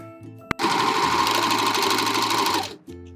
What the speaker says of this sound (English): The first thing I'm gonna sew are the cuffs and the rib knit